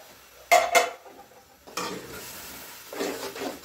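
A spoon clatters against a pot as spices are mixed into rice, with two sharp metallic knocks followed by scraping, rustling stirs that come in bursts, close and without speech.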